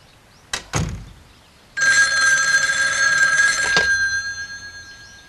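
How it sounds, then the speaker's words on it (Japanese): An old-fashioned telephone bell rings loudly in a single long burst after a few door thunks, its clanging ring fading out afterward in a quiet room. "お嬢様、パルフィー様からお電話でございます"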